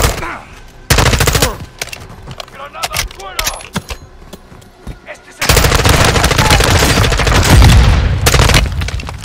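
Sustained automatic gunfire from Call of Duty: Modern Warfare 2, loud rattling bursts broken by scattered single shots and booms, with a long heavy barrage at the end; voices speak in between.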